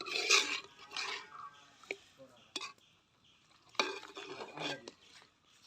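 Chicken curry being stirred in a pot on an outdoor stove: a spoon scrapes and clinks against the metal in short, irregular strokes, close and fairly quiet, with a person talking alongside.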